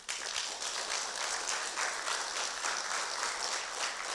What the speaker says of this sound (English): I want you to give a hand clap to God